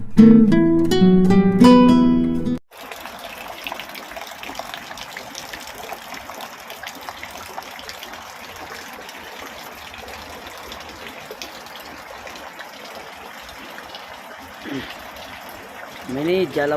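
Rainwater gushes and trickles through a leaking house roof, filling buckets in a steady, close, continuous pour that follows a brief burst of music at the start.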